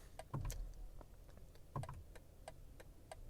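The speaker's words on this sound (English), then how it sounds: "I like the clicking sound." The hazard-light button of a 2020 BMW M235i xDrive Gran Coupé ticks with a light, steady clicking at an even pace, repeating for several seconds, close by and fairly quiet.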